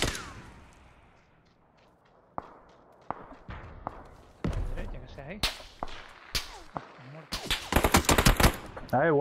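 Gunfire in PUBG, sharp single shots at first, then a rapid cluster of close, loud cracks and bursts near the end, with a voice speaking in between.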